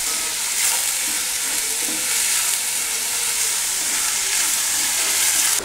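Onions sauté with a pinch of salt in a pan, giving a steady close sizzle and hiss broken by the soft scrapes of stirring.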